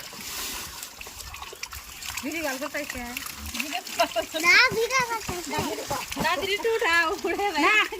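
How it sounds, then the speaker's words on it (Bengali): Water splashes and gushes from a newly installed hand-dug tube well, a close, uneven splatter heard beneath steady talk from adults and a child. "এই যে পানি আয়া পড়ছে।"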